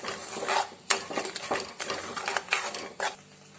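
Sugar is stirred and roasted in a pan for coconut barfi: a utensil scrapes the pan in repeated, uneven strokes with sharp clinks, close and fairly quiet, with no talking.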